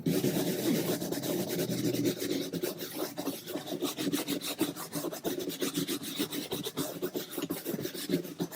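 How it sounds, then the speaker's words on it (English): A wall is scrubbed down to remove mold, giving a continuous close, rhythmic rasping scrub of bristles rubbing the surface, steady and fairly loud with no voices. "when you're scrubbing your wall down to get the mold out"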